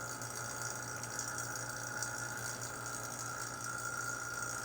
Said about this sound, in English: we're almost to the limit of what this vacuum pump can actually do